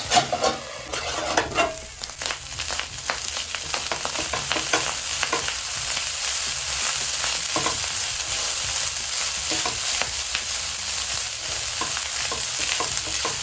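Minced meat sauce cooking in a covered pan, a steady close sizzle and bubbling frying sound with some stirring clatter at the start, continuous without talk.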